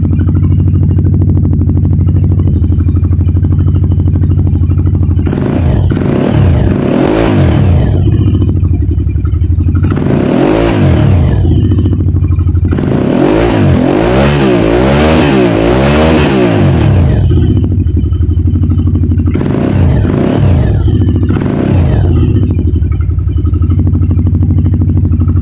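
An Aprilia Shiver motorcycle engine revs hard in several bursts between idle stretches, loud and close, with a raspy, spitting note from a leaking exhaust.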